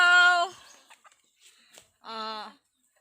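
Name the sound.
chickens clucking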